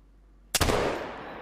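A single sharp rifle shot fired at a moose in the hunting game theHunter: Call of the Wild, a sudden loud crack followed by a long rolling echo fading out after silence.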